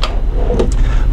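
A small cabinet drawer slides open in a new 2018 Newmar Dutch Star 4369 motorhome, giving a couple of short, close clicks and knocks over steady room noise.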